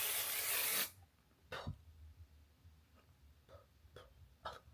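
A touch-up spray misted onto a face gives one loud, steady hiss lasting just under a second, followed by quiet room tone with a few soft taps and rustles.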